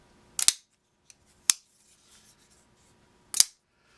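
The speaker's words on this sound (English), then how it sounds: "Listen to the sound when I grip it this way with the left hand versus the sound it makes right-handed." Benchmade 4300-1 CLA automatic knife gripped in the hand: a few sharp, crisp metallic clicks, close and clear, spaced irregularly with quiet gaps between.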